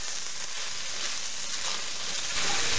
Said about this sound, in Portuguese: Agora a gente vai acrescentar os nossos cogumelos e a cenoura. Vamos deixar isso refogar um pouco.